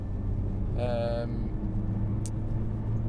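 A Nissan GT-R safety car accelerates uphill at Oulton Park circuit, its engine a steady low rumble throughout, with a brief voice heard over it.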